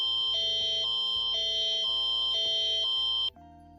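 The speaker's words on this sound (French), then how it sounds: "il nous a fait son petit screamer avec sa petite alarme" Jump-scare alarm from the horror video game Verity: a loud, steady electronic alarm tone pulsing in a regular beat over a low throbbing layer, cutting off abruptly near the end.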